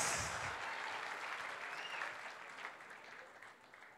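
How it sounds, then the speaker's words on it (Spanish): Applause from the crowd at a 2019 collective wedding ceremony in Boca del Río, honouring a newly married couple. The sustained, dense clapping starts loud and slowly fades over four seconds, with no one talking. "el aplauso es con escándalo"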